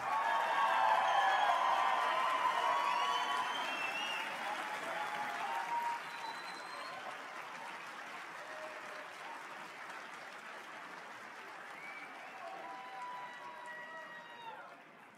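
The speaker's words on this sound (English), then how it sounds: "Let's give a rousing round of applause for the 3rd Infantry Division Army Band." Audience applause for the 3rd Infantry Division Army Band at a national conference opening general session, loud and sustained from a large crowd at first, then thinning and easing off gradually over fifteen seconds.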